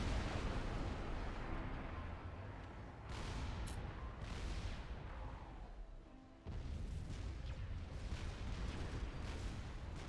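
Gun-through artillery fires in the Supreme Commander: Forged Alliance strategy game, with deep booms and explosions rolling over a dense, continuous battle din. The blasts keep coming in layered bursts rather than as single clean shots.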